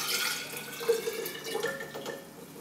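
Hot water runs steadily from a tap, a continuous splashing stream that holds at moderate level for a few seconds with no voices over it.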